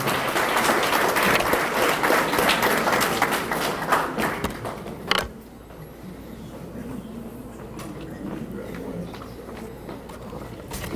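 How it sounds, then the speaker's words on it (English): Applause for a scholar at a banquet, a crowd clapping steadily for about five seconds before it fades into room murmur, footsteps and scattered thumps. "Give Braylon a round of applause, please."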